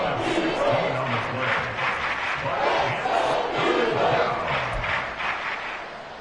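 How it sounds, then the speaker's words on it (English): A stadium crowd in an EA Sports American football game roars steadily and loudly throughout, a dense wall of cheering and shouting that swells in a few places. "This crowd turning up the decibel level."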